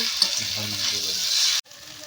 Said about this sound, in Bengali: আলুটা এখন ভাজা হচ্ছে পেঁয়াজ লঙ্কা রসুন বাটা আদা বাটা আর কালো জিরা